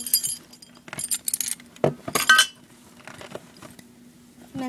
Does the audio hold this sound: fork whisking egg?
no